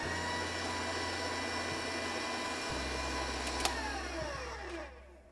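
An electric mixer drones steadily while mixing dough for homemade crescent rolls, a continuous close motor whine whose pitch drops partway through as the speed shifts to medium.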